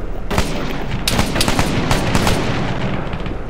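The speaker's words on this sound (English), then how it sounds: "there's a gunfight going on" Dense bursts of video game gunfire crackle nonstop, rapid automatic shots mixed with louder single cracks and booms, like a chaotic firefight close by.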